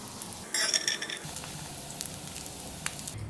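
Crushed garlic sauteing in a little leftover bacon fat in a pan, a soft sizzle with a brief burst of stirring and utensil clatter near the start, then quieter frying with faint clicks.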